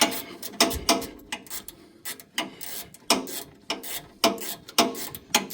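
Socket or ratchet tightening 15 mm bolts on newly installed HaloLifts coilovers, giving repeated clicking, ratcheting and grinding bursts in an irregular rhythm, close and fairly loud, with no talking.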